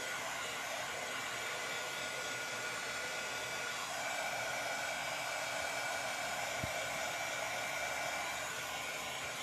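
A hair dryer blows steadily and loudly at close range, drying pink chalk paint on a decorated glass bottle. The whooshing airflow holds constant throughout, with a brief shift in tone partway through.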